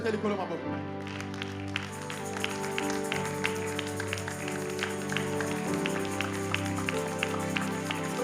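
Church congregation clapping in a steady rhythmic beat, with music or singing playing through it and a voice speaking over the top.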